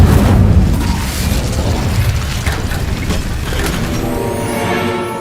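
Confringo and Incendio spell blasts in a wizarding video game land as a loud, close booming burst. A rumbling, crackling roar follows and stays steady for several seconds before thinning out, with no one talking over it.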